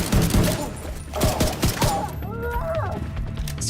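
Pistol shots in the video game The Division 2, a quick burst of sharp cracks up close mixed into a busy firefight. Faint voices are heard in the background.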